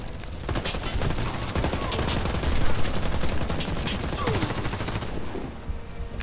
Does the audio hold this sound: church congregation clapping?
no